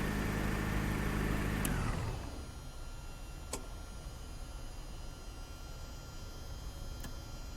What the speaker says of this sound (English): And we can shut off our engine.